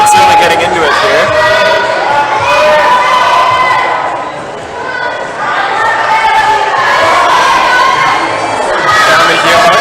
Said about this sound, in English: The crowd's really getting into it here.